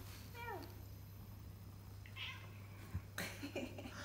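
A cat at a radio telescope station gives a short, faint meow, then several brief chirping mews a few seconds later, heard close over a low steady electrical hum.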